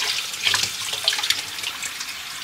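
Tap water runs in a steady hiss while matcha utensils are rinsed, with a few brief splashes and clatters close by.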